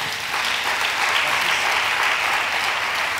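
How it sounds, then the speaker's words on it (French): A church congregation claps and cheers in steady, dense applause praising the Lord, loud and sustained throughout with no breaks. "Est-ce qu'on peut acclamer le Seigneur?"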